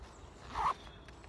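A quick single zip on the side pocket of a tactical bag, a short close rasp lasting a fraction of a second amid quiet handling noise.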